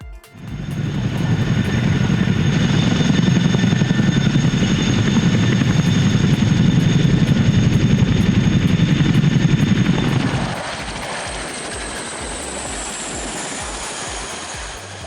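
A loud Chinook helicopter drones with a deep, rapid rotor chop for about ten seconds, then drops to a quieter, higher-pitched engine whine.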